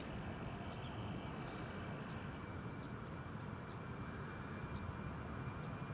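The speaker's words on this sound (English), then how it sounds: "So here we have our next departure, TUI 737-800 to Palma de Mallorca." A TUI Boeing 737-800 jet takes off from Newcastle International Airport for Palma de Mallorca, heard as a faint, distant low rumble that stays even, with soft regular ticks above it and no speech.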